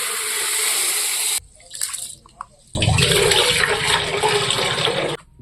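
Water gushes into a cooking pot of rice, a loud rushing pour that stops, gives way to a few drips and small splashes, then surges again in a second long, steady pour.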